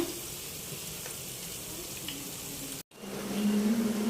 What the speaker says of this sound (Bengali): আবার ডালের বড়াগুলো ভেজে নিচ্ছি